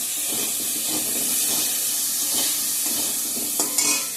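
Marinated meat fries with onion and garlic in a pan, a constant close sizzle broken by scraping stirs and a brief clatter near the end, with no talking.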